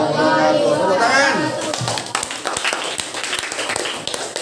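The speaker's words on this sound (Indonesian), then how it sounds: "Tepuk tangan." Classroom audience of students clapping together after a group's presentation, a dense burst of applause mixed with children's chatter and shouts, with some voices audible over it.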